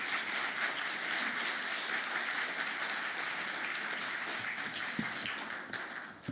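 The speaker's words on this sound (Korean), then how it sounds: "박수로 환영해 주시면 감사하겠습니다" An audience claps in sustained applause to welcome a lecturer to a Korean seminar on prayer, a dense, steady patter filling the hall, with a few sharper claps near the end as the applause tapers off.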